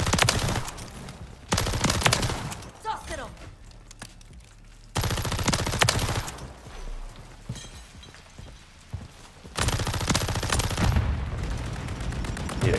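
A DG 58 LSW machine gun in Modern Warfare 3 rattles off three long, loud automatic bursts, close up, with quieter gaps of game ambience between them and no talking.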